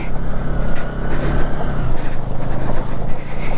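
Motorcycle pushing through a water crossing on a broken, roadless mountain route toward Pangong Lake in Ladakh, with a loud, steady engine roar and wind rush.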